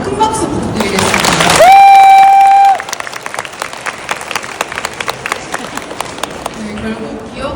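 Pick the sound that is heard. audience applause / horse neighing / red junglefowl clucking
audience applause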